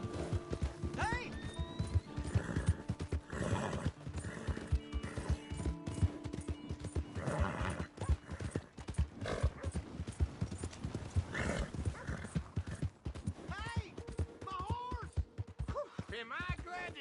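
A horse clip-clops close by in steady hoofbeats, letting out clear neighs and whinnies along the way, while voices speak over the hooves at moderate volume.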